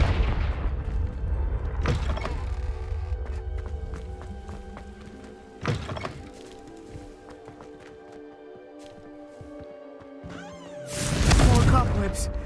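A Confringo fire spell detonates in Hogwarts Legacy with a loud, bright broadband blast near the end, after earlier sharp bursts over a steady musical game score.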